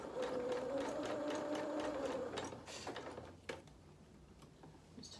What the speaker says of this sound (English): I'm almost sewing in a straight line with it